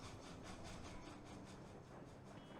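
A train rolls past in Sly Cooper: Thieves in Time, a steady, dense rumble with faint rhythmic clatter over the full short stretch, with no talk.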